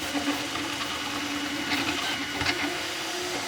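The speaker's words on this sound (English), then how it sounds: "This printer is pretty loud." Creality Ender 3 V3 metal-frame 3D printer running open without an enclosure, a steady mechanical whine with a sustained motor tone and small clicks, moderately loud and continuous with no talking.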